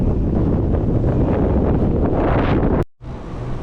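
Heavy wind buffets the microphone while cycling on a touring bike along an Icelandic coastal road, a loud continuous roaring rumble that cuts out abruptly near the end, then returns.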